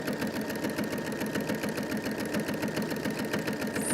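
A sewing machine with an Ellis walking foot stitches a quilt in a steady rapid mechanical rhythm, close and continuous, with no voices.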